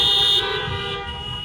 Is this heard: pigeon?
no